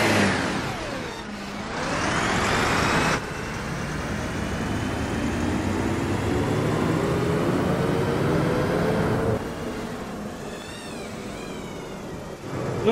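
A bus engine in the OMSI 2 simulator drones and rises steadily as it accelerates, with a continuous mid-range hum and a brief dip partway through, loud and up close with no talking.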